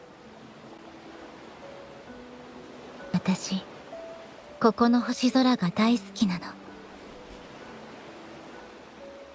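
A steady soft wash of ocean waves on a shore in the Wuthering Waves video game forms a faint continuous bed beneath a woman's quiet spoken lines and gentle musical tones.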